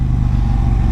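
A KTM 790 Duke motorcycle engine rolling off the throttle, a steady, smooth low-pitched drone with even mechanical hum and slight clatter, close and loud with no voices.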